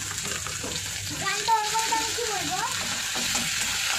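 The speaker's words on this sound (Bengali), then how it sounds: "অল্প হলদি দিয়ে দিই, নাহলে আদাটা ছিটকাবে তেলে দিলেই।" Grated ginger with a little turmeric tipped into hot oil, giving a soft, steady sizzle with a brief louder hiss as it hits the pan, fairly faint overall against light background noise.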